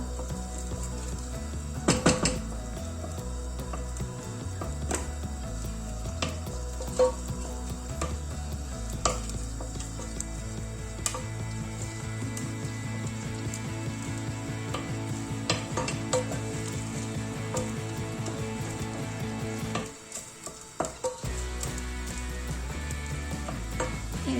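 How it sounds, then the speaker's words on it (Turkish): Tomato paste roasting in hot oil in a pan gives a steady, close sizzle with occasional scraping stirs, running continuously with no talk apart from a brief dip near the end. "Güzelce salçamızı kavuralım yağda."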